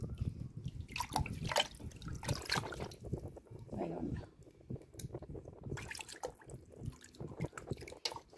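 Liquid fertilizer made from soaked coconut husks drips and pours in uneven trickles and splashes, fairly close, with some faint background noise.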